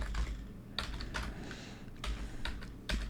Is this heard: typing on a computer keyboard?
yes